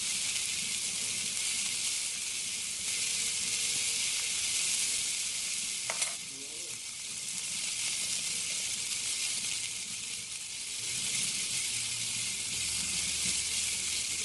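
Shrimp for shrimp scampi fry in a hot pan with a steady, loud hissing sizzle that runs throughout, broken by a brief clink of a utensil turning them near the middle.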